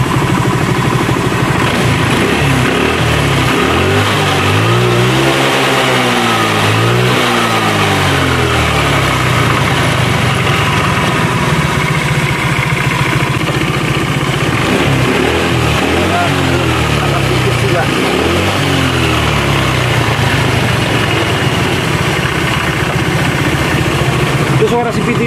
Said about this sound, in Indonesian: Itu suara CVT ini kasar banget.